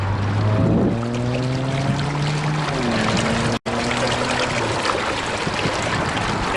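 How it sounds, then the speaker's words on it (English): A large flow of water drains into a storm drain at an unfinished hotel and casino construction site in the Las Vegas desert, a steady rushing trickle alongside a low droning hum, with a brief dropout midway. "that much water draining into the drainage system"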